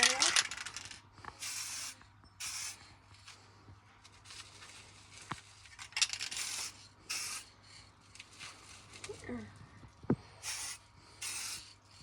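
A spray paint rattle can lays a second coat on a Harley Benton DIY guitar kit body in short hissing bursts about a second apart, with quiet gaps and faint handling noises between them.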